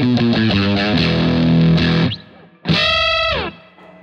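An electric guitar played through an EarthQuaker Devices fuzz pedal gives heavy, saturated chords, one held and then cut off, followed by a second loud fuzzy chord that rings briefly and stops.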